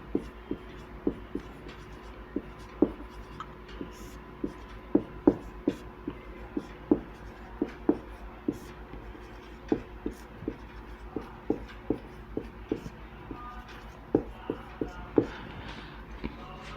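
Chalk taps and scratches on a classroom board in short, irregular strokes, a string of sharp clicks and brief scrapes, close but fairly soft, with no one speaking.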